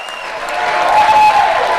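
A large rally crowd in Las Vegas breaks into loud, sustained clapping mixed with cheering, steady and dense throughout with a whistle-like tone rising briefly above it.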